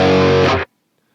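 A thick, fuzzy distorted electric guitar rhythm chord through a Line 6 Helix rings out loud and sustained, then cuts off abruptly into silence.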